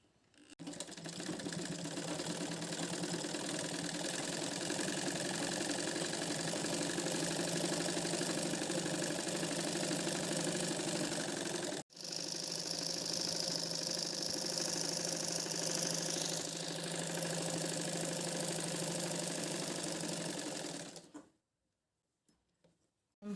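A sewing machine runs steadily while stitching a girl's lehenga blouse, a continuous close mechanical whir that stops briefly near the middle, resumes, then cuts off near the end.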